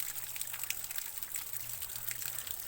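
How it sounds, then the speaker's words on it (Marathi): Water trickling steadily down from above in a village gutter channel, a faint continuous splashing patter with no clear individual drops, heard at a distance. "हे वरतून थोडं थोडं पाणी येते ना"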